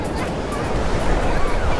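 Ocean surf washes onto a beach with a steady, loud, broadband rush, the waves rolling continuously with some wind buffeting the microphone.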